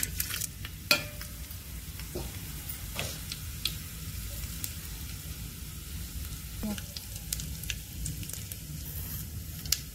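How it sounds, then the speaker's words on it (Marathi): Whole spices sizzle in hot oil in a pan for masale bhaat (spiced rice): a steady close frying hiss with occasional light clicks and scrapes of stirring, and no talk. "आपण 3 माप तेल घालूया। सगळे खडे मसाले"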